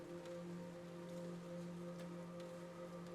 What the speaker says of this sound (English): The rain is lighter now, definitely lighter.